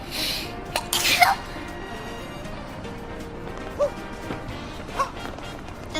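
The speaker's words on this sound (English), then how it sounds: "Just one sneeze." A single sharp sneeze from a woman bursts out near the start, close and fairly loud, over a steady bed of quiet background music with a few faint clicks afterward.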